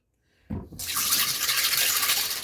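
Pebbles are rinsed under a tap: after a brief quiet start, running water suddenly gushes in and splashes steadily, loud and close, until the end.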